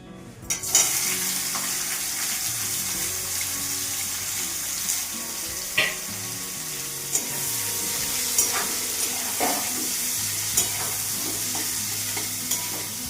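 Onion hits hot oil mixed with ghee in a pan for a vegetable paneer biryani, giving a steady broad sizzle throughout with occasional sharp clinks and stirring scrapes and no talking.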